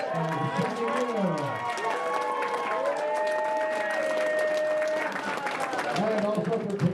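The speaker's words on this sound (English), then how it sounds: "I give you all a big round of applause" Audience applause rising behind a sustained voice with strong harmonics, the clapping a steady wash in the background.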